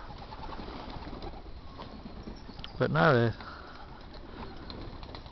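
Racing pigeons coo in a loft during a one-loft race, a single short burst of cooing rising over low room noise while a person speaks briefly nearby.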